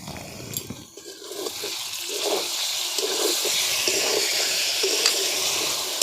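Boiled potatoes with sour yogurt are stirred in a pan for a potato curry. A soft wet sizzle and bubbling swell into a steady, fairly loud frying sound with faint scraping of the stirring, and no voices.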